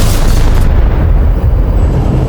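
Tank shells blast into a building with a loud, close boom that rolls into a dense rumbling roar of collapse and debris, alone without voices.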